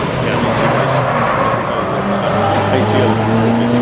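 Porsche race car passing on the circuit during a 750 Motor Club endurance race at Snetterton, a steady loud engine drone with shifting tones throughout, under continuous broadband track noise.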